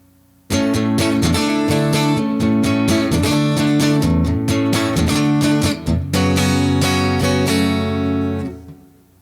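Guitar playing a riff pattern, a loud, continuous run of rhythmic picked and strummed notes lasting about eight and a half seconds, with a brief dip near the six-second mark before ringing out to a stop, no talking.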